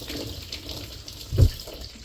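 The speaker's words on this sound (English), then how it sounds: "Wash my hands off quick." Hands rinsed under a running tap at an outdoor catch-and-cook of bluegills, a steady close splash of water with a brief louder gush near the end.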